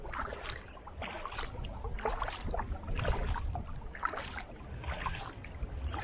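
Kayak out on choppy river water heading toward rapids, a continuous near sloshing and lapping of small waves against the hull with faint wind, uneven but steady and fairly quiet, no talking.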